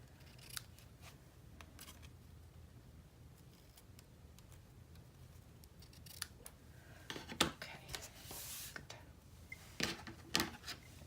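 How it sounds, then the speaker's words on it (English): Small scissors snipping loose thread tails on a sewn fabric boxed set, faint quiet handling at first, then a cluster of crisp close snips in the last few seconds. "And then I'll have to trim these tails."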